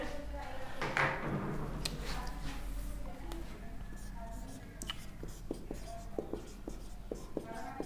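Pen or pencil scratching out the definition of nutrients by hand for a class 6 science lesson on components of food, a steady close scratchy writing texture with short taps, over low room hum.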